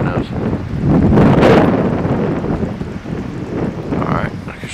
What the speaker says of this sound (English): Wind at night.